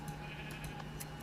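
A sheep bleats faintly in a video game as a dispenser shears it, with a low steady hum beneath and a few brief higher bursts over about a second.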